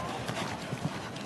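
Hooves of the show jumping horse Hickstead clip-clopping in an arena at the Calgary BMO Nations' Cup, a steady run of soft thuds under an ongoing commentator's voice.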